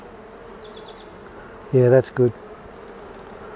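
Honey bees around a hive frame, a faint steady buzz running under the whole stretch while two short spoken words break in loudly near the middle.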